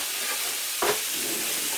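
Food being stirred in a frying pan, a steady sizzle and hiss with one brief scraping stir partway through.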